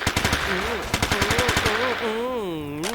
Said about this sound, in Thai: สู้อะไรกับปืนกลละจ้า